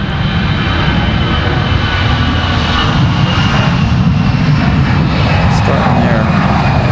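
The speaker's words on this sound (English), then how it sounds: "it looks like we got an American A321 headed back to Charlotte" American Airlines Airbus A321 jet bound for Charlotte, roaring steadily at Raleigh-Durham airport, a loud, continuous, broadband engine rumble with no break throughout.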